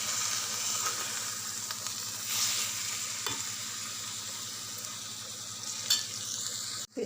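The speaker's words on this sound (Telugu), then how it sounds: "ఇలా ఎగ్గులు చదివాక మెల్లగా ఒక్కొక్కటి ఇలా తిప్పుకోవాలి" Eggs fry in a pan of onion-stalk curry and are turned one by one, giving a constant close sizzle with a few light scraping and clinking touches of the utensil.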